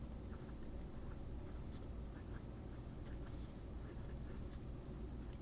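A broad fountain pen nib scratches across paper held upside down for reverse writing, a soft continuous scratch with faint clicks of the strokes, close and quiet against a steady low background hum.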